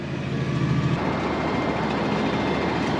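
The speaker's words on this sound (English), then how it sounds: "drill goes down, we're drilling the tram line now." Heavy machine drilling a tram line: a constant grinding roar, with a low hum under it at first. No voices.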